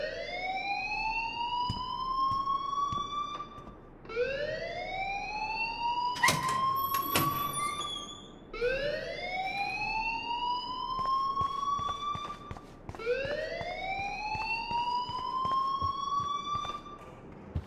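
In the video game Life Is Strange, a loud alarm wails in slow rising sweeps, repeating about every four seconds over a faint background with a few sharp clicks and no speech.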